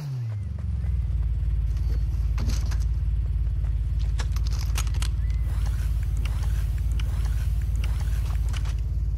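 A Toyota Supra in the Fortnite video game idles with a steady, low, even engine rumble that holds close and constant for the whole stretch, with faint game clicks above it.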